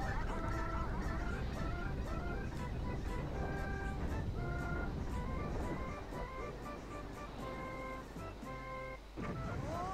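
Ucayaya goose-like enemies in The Legend of Zelda: Twilight Princess honking repeatedly in quick, uneven bursts of nasal calls, fairly close and overlapping, over a low game background hum.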